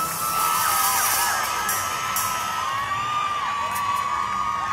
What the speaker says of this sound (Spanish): Ahora el grito de las damas.